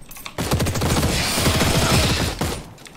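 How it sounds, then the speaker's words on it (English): Rapid automatic gunfire from an automatic pistol in The Cycle shooter game, a dense, continuous burst of close shots lasting about two seconds before cutting off abruptly. "Love how it can shoot through you and it counts."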